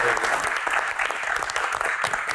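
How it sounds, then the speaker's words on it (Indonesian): An audience at a badminton Q&A event bursts into close, dense applause, many hands clapping loudly and continuously for a couple of seconds. "Tepuk tangan dulu."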